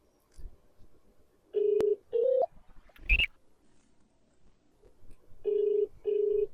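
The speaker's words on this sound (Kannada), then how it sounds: "ರಿಂಗ್ ಆಗ್ತಾ ಇದೆ" Phone ringback tones from a call placed to a grandmother, several steady beeping rings repeating with pauses, fairly clear with faint background noise and no talk.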